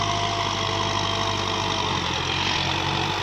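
A Thai M62 tractor engine runs steadily at close range with a dense, even mechanical drone and low rumble, holding constant loudness throughout the brief stretch while gears are engaged.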